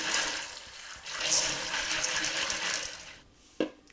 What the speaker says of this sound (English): then I'm gonna give them a quick rinse